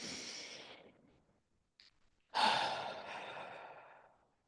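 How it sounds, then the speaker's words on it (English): A slow audible exhale fades out, then after a short quiet pause a deep, close breath in swells and tapers off during a guided prayer, with no talking. "Take a deep breath in."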